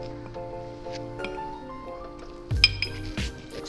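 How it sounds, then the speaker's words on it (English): Lime and sage leaves are muddled in a cocktail glass, giving a few sharp clinks and dull thuds of the muddler against glass near the end, over soft background music. "We're gonna muddle this right in our glass."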